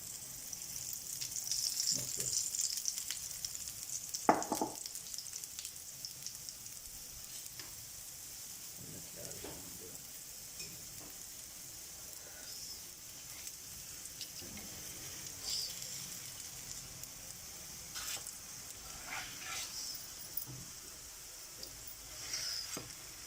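Makki roti, a maize flour flatbread, sizzles softly on a griddle with ghee, a steady faint crackle punctuated by occasional small pops and taps, with no talking.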